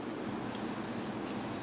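Zero Guard spray hits a hair clipper in two short hissing bursts, close and fairly loud, in a barbershop setting.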